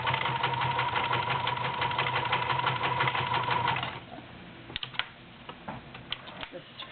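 Vintage Kenmore 158-1249 Ultra Stitch 10 convertible free arm sewing machine with plastic gears, stitching through four layers of denim in a steady, close whirring run for about four seconds, then stopping, followed by scattered clicks and handling noises.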